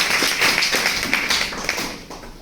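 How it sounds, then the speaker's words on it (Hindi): An audience claps after a lecturer is introduced, a burst of many hands applauding together that stays lively and gradually thins out toward the end. "एक बार फिर से जोरदार ताली।"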